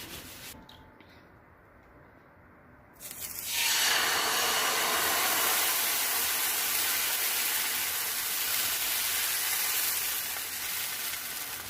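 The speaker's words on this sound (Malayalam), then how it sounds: "ഇത് നോൺ സ്റ്റിക്ക് ആണെങ്കിലും ഞാൻ ജസ്റ്റ് ഒന്ന് എണ്ണ തൂവി കൊടുക്കും." Oil drizzled onto a hot non-stick pan while making Kannur ottupola dosa: a quiet kitchen for about three seconds, then a sudden, steady, fairly loud sizzling hiss that holds to the end.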